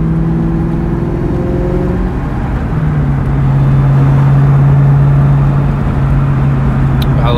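A 2003 Mustang Cobra drives along, its engine giving a loud, continuous low rumble with a slight change in pitch as it cruises, heard from inside the car.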